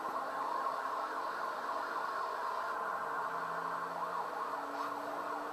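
Overlapping electronic police yelp sirens in the video game Need for Speed: Hot Pursuit 2010, rapid warbling sweeps, steady and continuous under a hiss of Crown Victoria engine noise, fairly faint.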